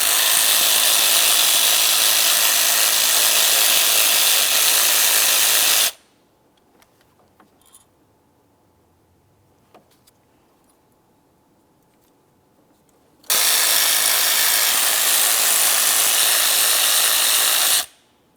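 Power tool running on the 7mm ignition coil mounting bolts of a 2002-2005 Ford Explorer: a loud, steady whirring burst of about six seconds, a quiet gap with faint clicks, then a second sustained burst of similar length.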